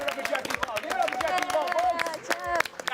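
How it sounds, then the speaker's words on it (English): Audience at a trivia tournament breaking into quick, scattered clapping, close-up claps rattling over a host talking and general crowd noise. "Clap it up."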